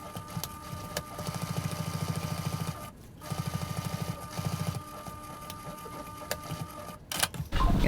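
A sewing machine stitches sling bag fabric in two bursts of rapid, even needle pulses, separated by a brief pause, close and clear, with light handling clatter near the end.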